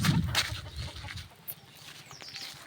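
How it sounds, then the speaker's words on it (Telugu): Hens and their chicks cluck softly outdoors, with short scattered calls and faint peeps over a quiet background, with no talking. "కోడి పల్లాలు."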